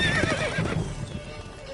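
Roach the horse trotting in The Witcher 3, hooves clip-clopping in a quick steady rhythm close by, with a whinny rising over the hoofbeats before the sound eases off.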